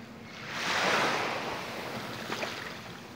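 Ocean waves roll in at Teluk Kabung harbour in Padang, a broad soft wash of surf that swells near the start and then settles, with light wind noise on the microphone and no voices.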